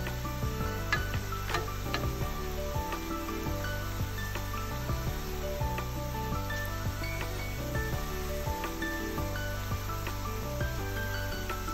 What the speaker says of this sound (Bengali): এখন অনবরত এটিকে নাড়তে হবে,